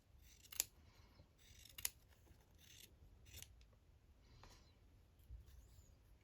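Scissors trim a paper tag in several crisp, quiet snips with short chomping cuts spaced a second or so apart, close-up and alone in a hushed room.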